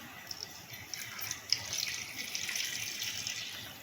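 Water pours steadily into a cooking pot of cut potatoes, a continuous bright splashing and trickling with small drips, close and moderately loud, no speech.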